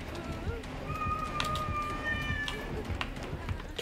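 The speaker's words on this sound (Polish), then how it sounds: "Oczywiście ten mój kot, nie? Musi miauczeć jak popieprzony." A house cat gives a few drawn-out meows in the background, faint against the steady noise of a computer game.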